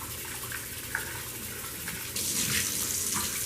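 Turkey wings are rinsed under a running kitchen tap, a steady soft stream of water with small splashes that grows louder and brighter as the flow strengthens partway through.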